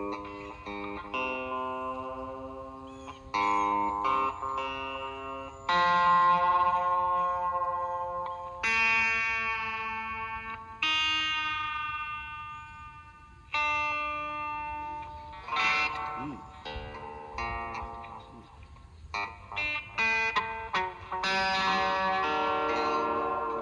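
Out-of-tune Donner DST-200 electric guitar played through the humbucker pickup with heavy reverb: a run of ringing notes and chords with long washy tails, played alone at moderate volume.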